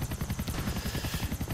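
Helicopter in the video game GTA IV, a close rhythmic rotor chop pulsing rapidly and steadily through a brief stretch with no talk.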